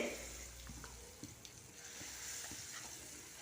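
Mustard seeds and asafoetida sizzle in hot oil in a pan, a soft steady frying hiss with a few faint pops and clinks of the utensil, quiet and close.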